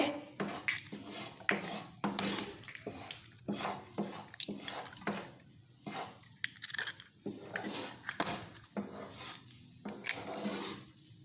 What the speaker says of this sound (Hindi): तीनों अंडे मैंने तोड़ दिए।